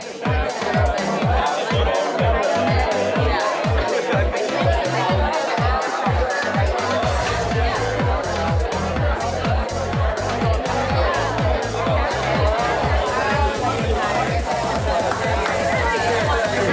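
A large presentation audience turns to chat with their neighbours, producing a dense, steady babble of many overlapping voices that fills the room, with a regular rhythmic thumping beat running underneath throughout.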